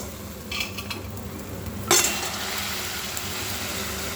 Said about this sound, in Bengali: আগে থেকে যে ছোলার ডালের সাথে আলুটা সেদ্ধ করে রেখলাম সেটা আমি দিয়ে দেবো